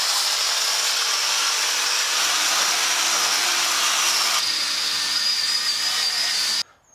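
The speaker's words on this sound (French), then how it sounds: "je sors le châssis, je brosse le châssis" A Suzuki Samurai chassis is scrubbed of rust with a power wire brush, a loud continuous high whirring grind that holds steady for several seconds, shifts slightly in tone, then cuts off abruptly.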